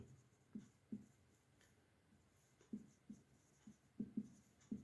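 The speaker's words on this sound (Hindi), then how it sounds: "यहाँ पे मैं लिख रहा हूँ" Chalk or marker writing on a classroom board during a geometry lesson, a series of short, soft taps and strokes in uneven clusters, close by with no talk.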